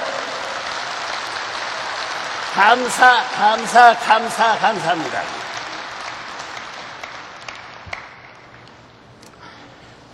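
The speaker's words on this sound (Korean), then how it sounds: "박수해요." Audience at a Korean religious gathering claps at a low, steady level, partly masked when a voice speaks briefly over it midway, then continuing softly on its own.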